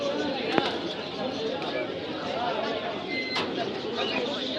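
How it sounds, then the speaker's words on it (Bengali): Pigeons coo softly under the steady hubbub of a busy pigeon market, blending with crowd chatter and a few sharp nearby clicks. "এটা সিলভার স্টাইলের কবুতরটা দেখেন"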